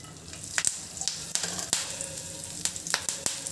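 Cumin seeds sizzle and crackle in hot oil in a pan, a steady frying hiss broken by sharp, irregular pops close up, with no voices.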